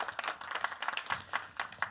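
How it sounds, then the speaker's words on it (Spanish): An audience at a book launch at a book fair applauds, a short, irregular patter of clapping from a fairly small crowd, moderately loud and with no voices. "Recibamos también con un fuerte aplauso a Rodrigo Suárez"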